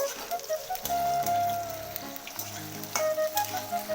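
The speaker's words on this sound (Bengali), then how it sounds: "এবার পটলটা দিয়ে দিলাম পটলটা অল্প যেহেতু সেই আলুর মধ্যেই ভেজে নেব" Pointed gourd pieces frying with potatoes in hot oil give a steady, close sizzle, with a few thin whistling tones rising over the crackle.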